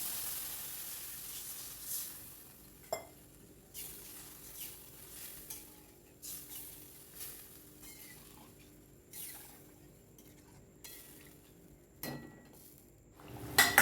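Curry gravy boils in a pan in a home kitchen, a soft steady bubbling and sizzle broken by occasional clinks of a spoon or utensil against the pan.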